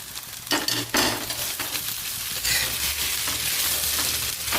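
Soaked poha is stirred in a frying pan, a steady close sizzle with scraping and occasional clinks of a spoon against the pan.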